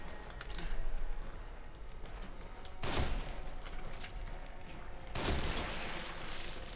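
Gunfire in the horror video game The Evil Within: two loud, sharp shots a couple of seconds apart ring out over a quiet, crackly backdrop of game ambience with faint clicking.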